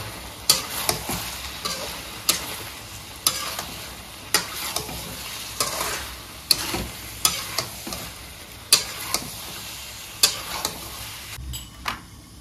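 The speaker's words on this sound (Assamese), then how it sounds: "একদম ধুনীয়াকৈ ফ্ৰাই কৰি ল'লোঁ" Pork with Kashmiri chili and coriander powder frying without oil in a pan, a steady close sizzle broken by regular sharp stirring scrapes and clinks about once a second.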